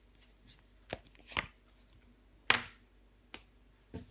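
Tarot cards slapped down onto a table, one covering the king of wands: five or so sharp, close taps spaced irregularly, with quiet room tone between.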